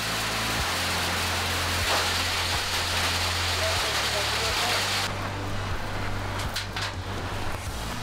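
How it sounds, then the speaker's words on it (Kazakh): Hail falling produces a dense, continuous rushing clatter, loud and unbroken, over a low droning hum that shifts in pitch partway through. "Бұршақ жауа бастады."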